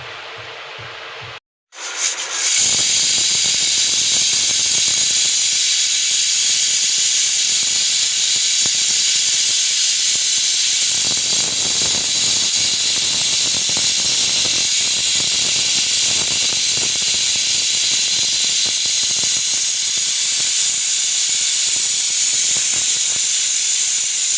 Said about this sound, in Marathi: आपल्याला तीन शिट्ट्या करून घ्यायच्या आहेत